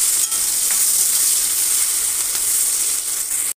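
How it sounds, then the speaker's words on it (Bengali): Onions fry in mustard oil with a loud, steady, close sizzle that runs unbroken before stopping abruptly at the end; no talking. "এবার পেঁয়াজ একটু ভালো করে লাল লাল করে ভেজে নেবো।"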